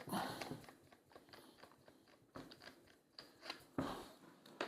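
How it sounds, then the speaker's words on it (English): Silencer being unscrewed from an SMK Victory CP2 .177 CO2 air rifle, giving close, faint metallic clicks and scraping twists in irregular bursts, with no voices. "So unscrew the silencer."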